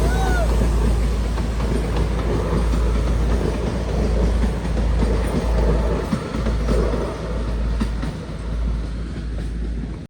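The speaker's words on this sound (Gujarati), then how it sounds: "ચાલો ટ્રેનનો આવવાનો ટાઈમ પણ થઈ ગયો છે તો આવતી છે" A train arrives at a station on Independence Day, rumbling continuously and loudly with clattering wheels and a low steady drone, while people talk faintly underneath.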